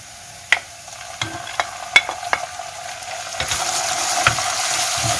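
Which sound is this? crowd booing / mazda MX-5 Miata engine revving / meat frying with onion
meat frying with onion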